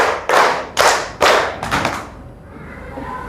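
A classroom of children claps along with their teacher in four firm, unison claps about half a second apart. The claps are close and loud, then trail off into quiet room noise.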